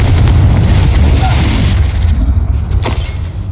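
A Confringo blasting spell explodes in Hogwarts Legacy, giving a loud, deep booming burst that rolls into a sustained low rumble and then tapers off.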